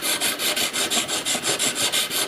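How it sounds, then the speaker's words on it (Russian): Rhythmic back-and-forth strokes of 320-grit sandpaper rubbing along a homemade knife blade, about five even passes per second, close and steady with no voices. "Значит, сейчас я прохожусь 320 наждачкой."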